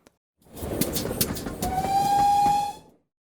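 A small Bachmann GWR 94xx sound-fitted model steam locomotive on a rolling road whirs into motion, with a whistle-like tone sounding over the running noise, then it cuts off abruptly.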